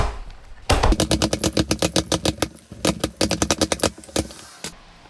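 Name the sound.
winding Ryobi string trimmer line by spinning the head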